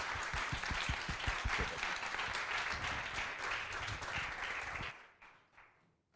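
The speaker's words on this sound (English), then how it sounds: "So a round of applause, please, for Desiree" Brisk audience applause at a symposium follows a whistle-blower's closing words, with individual claps audible at the start, then thins and stops abruptly, leaving a faint tail.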